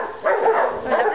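A dog barks and yips in short bursts close by, mixed with a voice speaking over it.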